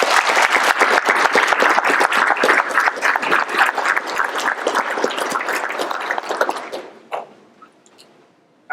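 Loud, dense applause from an audience at a police promotions and reserve officer graduation ceremony, honoring families and supporters, sustained for about seven seconds before tapering off into a few scattered claps.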